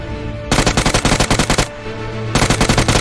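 Loud automatic gunfire from a video game rips out in two rapid bursts, each a fast, even string of shots, separated by a short pause.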